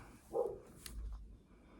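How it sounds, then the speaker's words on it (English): A dog gives a single short bark indoors, fairly close, followed by quieter low rustling in a home setting. "Of course the dog's going to bark."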